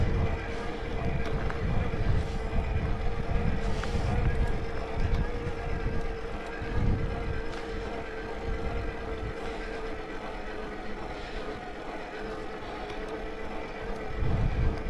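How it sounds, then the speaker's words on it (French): Wind roars against the microphone during an electric-assist mountain bike ride on trails and a small road above Banca. A dense, continuous rumble with gusting swells fills the whole stretch, close and loud. "Un peu de vent là, ça fait du bien."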